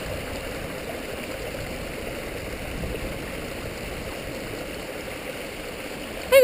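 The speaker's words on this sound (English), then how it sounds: "We're at the upper stream, upper pond at the waterfall." A waterfall runs into an upper stream beside a pond, giving a steady, even wash of rushing water that holds unbroken and fairly close, with no voices over it.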